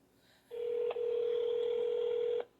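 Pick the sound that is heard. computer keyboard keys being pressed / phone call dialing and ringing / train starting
phone call dialing and ringing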